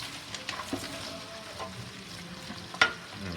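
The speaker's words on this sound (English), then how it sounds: "Let's get that little stir first. So that all gets coated in." Onions and peppers frying for a curry base are stirred in a pan, a steady soft sizzle broken by a few scraping spoon strokes and one sharp clink near the end, no voices.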